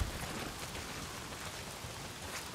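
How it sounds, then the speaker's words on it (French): Heavy rain in the video game Days Gone, a faint, dense, even hiss of downpour continuing without pause. "s'il pleut des cordes"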